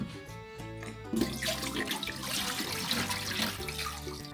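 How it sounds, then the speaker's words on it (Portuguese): Water poured off peeled ginger into a sink, a continuous close splashing and gurgling flow that starts after a moment of quiet kitchen hum and runs steadily to the end. "Eu vou escorrer essa água e a gente vai ralar o gengibre."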